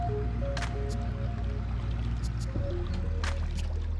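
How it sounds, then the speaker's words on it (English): A narrowboat is hoisted out of the canal, with water dripping and splashing off the hull in scattered bursts over a steady low mechanical hum from the lifting gear. "Boat's coming out the water."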